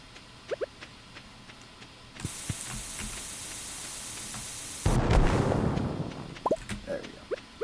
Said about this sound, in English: It's never too late to bomb the farm.